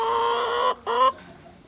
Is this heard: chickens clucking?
yes